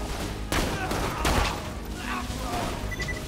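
Gunfire in an online shooter game: a few sharp, loud shots and bursts cut through a busy, noisy mix of game effects.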